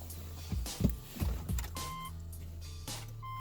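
A Subaru with a standard transmission and a dead battery fails to start, giving a few dull clunks and brief electrical clicks and whirs close by, then a faint high tone, with no engine catching.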